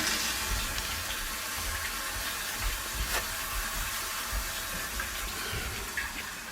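Steady rushing water fills a newly installed water heater tank, a continuous broadband hiss and gurgle with no pauses and no talking.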